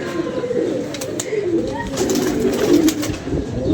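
Pigeons coo in low, throaty murmurs during wet, rainy weather, with a steady wash of background noise and a few brief higher chirps over the soft rolling calls.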